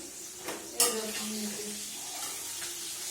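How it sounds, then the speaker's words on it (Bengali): Goat liver frying in hot oil, with a sharp spattering pop near the start, then a lighter continuous sizzle and faint scrapes of a utensil against the pan. "মেটেটা ভেজে নিই আমি"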